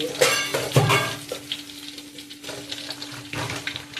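Food frying in a pan while sambar with green gram and spinach is being cooked, giving a steady hiss under scattered scraping and clinks of a spoon against the pan.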